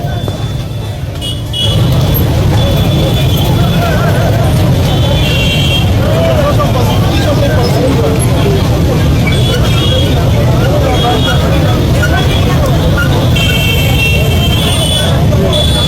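Busy road traffic with buses and cars, a steady loud rumble of engines and passing vehicles with occasional horn toots, under a background babble of crowd voices at a city roadside.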